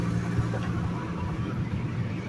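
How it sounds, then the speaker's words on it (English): A loud Nissan car passes on the highway, heard from inside a truck as a steady, broad road and engine roar that swells slightly and holds for a couple of seconds. "that Nissan was loud"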